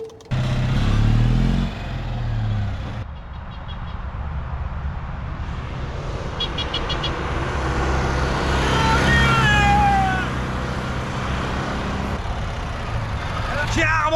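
Citroën 2CV car under full throttle, a rough low engine drone that surges loud at the start and carries on steadily beneath excited talk, with some shifting higher tones mid-run.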